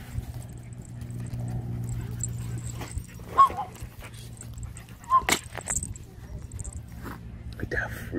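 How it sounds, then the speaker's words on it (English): A chihuahua among several dogs gives a few short yips and grumbles, with rustling and handling noises around it and quiet talk in the background. "Growling at the rat."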